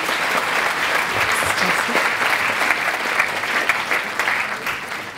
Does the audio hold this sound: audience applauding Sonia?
yes